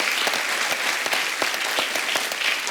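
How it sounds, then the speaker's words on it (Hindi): Sustained studio audience applause on a comedy talk show, loud and even, a roomful of people clapping together without pause or speech. "सबसे पहले उस बात के लिए तालियां"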